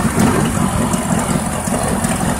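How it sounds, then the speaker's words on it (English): A 1983 Ford F100 Stepside engine idling at about 800 RPM, a steady low, even rumble that is close and continuous, with no talk over it. "Now it's finally running and idling at 800 RPM."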